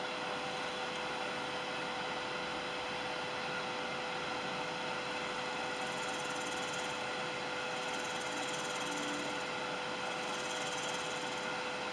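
A woodturning gouge in need of sharpening nibbles away at wood spinning on a lathe, a continuous even whirring hum with a faint scraping texture, steady and unbroken throughout.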